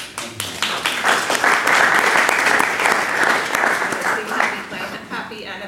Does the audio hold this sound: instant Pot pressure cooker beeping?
no